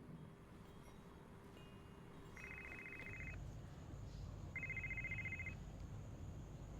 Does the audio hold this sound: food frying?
no